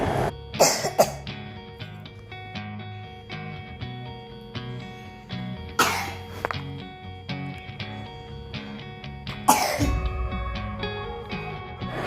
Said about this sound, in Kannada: ಈ ಕೆಮ್ಮನ್ನು ಕಂಟ್ರೋಲ್ ಮಾಡೋದು ಹೆಂಗಪ್ಪ?